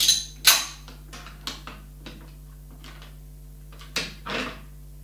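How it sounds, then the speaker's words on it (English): Metal parts of a Bren gun clack and knock as the barrel is taken off during stripping: a handful of short, sharp clicks and clunks at irregular intervals, close by, with a low steady hum underneath. "He's now going to take the barrel off."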